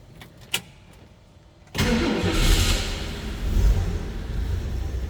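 A few clicks, then a 1965 Ford E-100 Econoline van engine cranks and catches, settling into a rough, loud idle with a slight rev.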